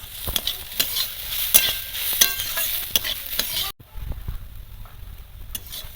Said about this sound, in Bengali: ওলকপি ভাজা একদম হয়ে গেছে